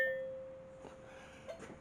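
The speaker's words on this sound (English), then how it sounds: "A bell for last orders." A bar bell for last orders in a home bar rings once with a clear, sustained tone that fades away over quiet room noise.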